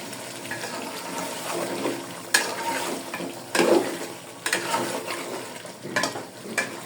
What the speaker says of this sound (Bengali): মুরগিটাকে আমি কষিয়ে নিচ্ছি। এখন আমি আলু দিয়ে দিব।